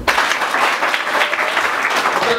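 Sustained audience applause at a youth event in Arusha, many hands clapping steadily and loudly throughout with no pauses.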